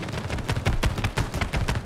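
Rapid gunfire from the video game It Takes Two, a dense burst of repeated shots and impacts that runs continuously and loudly throughout.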